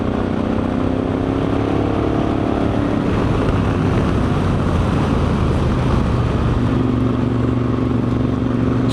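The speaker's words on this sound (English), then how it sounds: "just listen to that exhaust" Moto Guzzi Stelvio motorcycle exhaust rumbling steadily at close range, a loud continuous engine drone with low harmonic tones that shift slightly toward the end, no talking.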